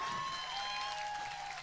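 A concert audience gives steady, dense applause at a faint, distant level, a continuous wash of clapping with a sustained musical tone ringing underneath.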